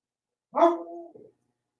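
One close, clear dog bark, a sharp yelp that trails off into a short whine, with silence before and after.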